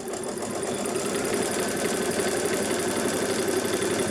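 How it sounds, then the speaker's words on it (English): A sewing machine running steadily through a seam, folding a facing down and stitching back in the reverse direction; a continuous close mechanical whir with no pauses and no talk. "stitch the seam back in the other direction"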